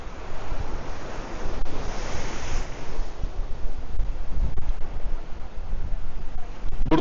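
Rough sea waves at La Digue in the Seychelles, a loud continuous roar of surf with wind buffeting the microphone, the wash swelling and receding without speech.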